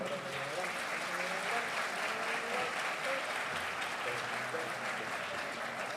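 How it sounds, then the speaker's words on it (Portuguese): Steady applause from an audience at the swearing-in ceremony of a national prosecutors' association board, sustained and fairly even throughout, with faint background murmur or voices beneath the clapping. "Uma salva de palmas, por favor."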